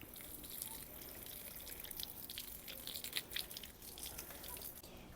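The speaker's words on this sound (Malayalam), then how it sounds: "നമ്മൾ വെള്ളം ഒന്ന് നനച്ചു വിടുക" Water trickling and splashing onto soil freshly sown with coriander seeds, a steady close patter with scattered brighter drips and no voices.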